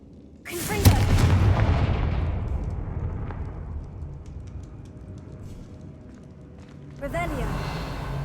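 A Confringo fire spell bursts in Hogwarts Legacy with a loud booming explosion that rumbles and slowly fades, then a second blast hits near the end.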